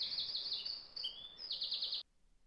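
A played recording of birds singing: bright, high chirps and trills close to one another, lasting about two seconds before the sound cuts off.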